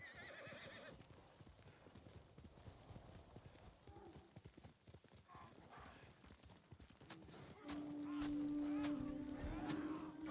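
Horse hooves clip-clop steadily while the horse whinnies during a ride in Ghost of Tsushima. The sound is moderately quiet, and a louder tonal game sound joins near the end.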